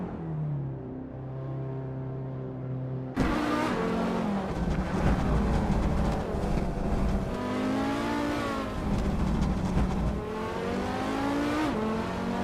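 Race car engines, a turbocharged 1993 Lancia Delta HF Integrale among them, roar loud and near, revs climbing and falling continuously across the stretch, with tire squeal mixed in and a quieter lead-in before the full roar begins.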